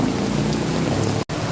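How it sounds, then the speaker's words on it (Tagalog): Heavy rain pours down in a dense, steady hiss close by, with a brief sharp dropout near the end. "Sobrang lakas ng ulan."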